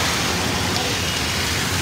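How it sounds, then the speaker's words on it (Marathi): Heavy rain pours steadily during a Konkan trip, a dense, constant close wash of noise with no breaks, heard alone for under two seconds. "खूप पाऊस आहे"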